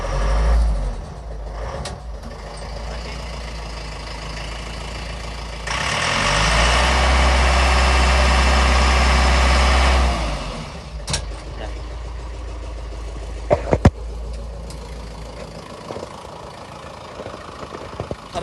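A tractor, a 2018 Chinese-made unit with 637 engine hours, cranks to life and settles into a steady, close diesel idle, with a brief louder revving stretch in the middle and a few sharp clicks later.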